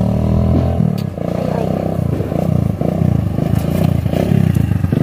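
Motorcycle engine running close by, a loud, throbbing, pulsing drone with rattling clatter, and some talk mixed in.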